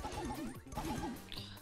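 Repeated punchy whacks from a character striking a box in the Brawl Stars mobile game, a quick rhythmic run of hits over busy game music and effects, with a brighter chime near the end.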